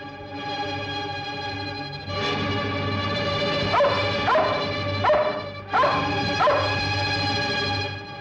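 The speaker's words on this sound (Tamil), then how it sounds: "இந்த நாய் என்ன பார்த்து குறைக்குது" A dog barks in a Tamil film scene, a few loud, sharp barks in quick clusters over a steady droning background tone, close and prominent, with no talking.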